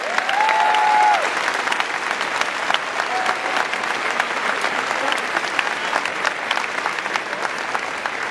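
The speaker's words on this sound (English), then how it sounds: "show our appreciation with a round of applause to both these teachers" Graduation ceremony crowd applauding two teachers: a broad, even patter of many hands sustained for several seconds at moderate volume, with a brief tonal squeal at the start.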